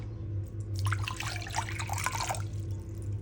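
A cup of warm water being poured into a bowl for bread dough, a short, soft trickle and splash lasting about two seconds over a low steady hum in a kitchen.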